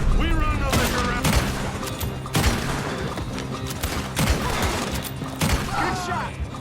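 Repeated gunfire in the Red Dead Redemption 2 video game, shots cracking in irregular bursts against a dense game soundtrack and ambience, with several loud reports spaced across the scene.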